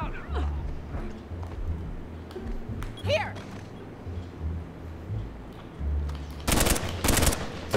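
Automatic gunfire in an Uncharted 4 multiplayer match, with several loud rapid bursts late on and scattered single shots and game effects earlier, heard over low background rumble without speech.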